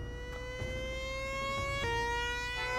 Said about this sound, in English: it's a weird siren to tell me that I'm in there